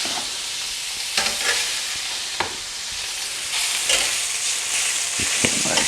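Food frying in an oiled pan, giving a steady bright sizzle with occasional crackles and pops, close and continuous with no talk.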